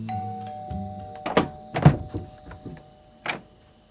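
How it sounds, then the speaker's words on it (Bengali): A doorbell rings at a house door, several bright chiming tones sounding nearby with soft knocks and clunks between them, and no voices. "হঠাৎ কলিং বেলটা বেজে উঠল"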